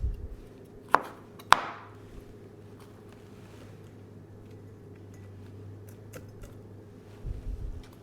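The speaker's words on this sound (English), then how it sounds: "I'm going to put a few slices of jalapeno with the seeds." Two sharp knife cuts through a jalapeno on a board, close and distinct, followed by quiet background hum and a soft rustle at the end.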